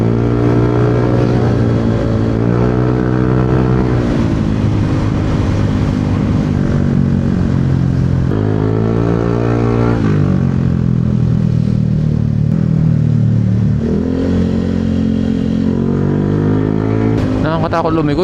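A motorcycle on a ride-hailing trip rolls along a road, its engine a loud, continuous drone whose pitch rises and falls as the rider eases the throttle, steady from start to finish.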